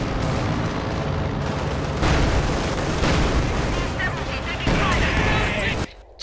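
Sustained gunfire from a veteran infantry unit in a real-time strategy battle game, rapid bursts and booms layered over one another, loud and continuous, with a voice talking over it.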